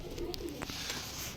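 Pigeons in a small loft make a few soft coos and brief bird calls against a steady background hiss, fairly faint and not close.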